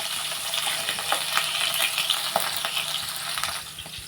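Dried fish crackling in hot oil in a pan, a dense steady sizzle broken by frequent small pops and stirring clicks, close and fairly loud, with no voices.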